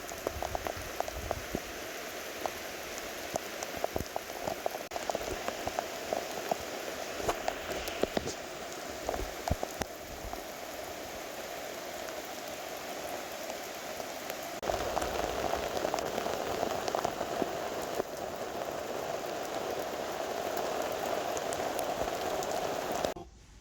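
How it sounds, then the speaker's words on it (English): Steady, dense rainfall pours down continuously, a broad hiss of drops that grows heavier partway through, with scattered louder splashes and no voices. "that's a lot of rain."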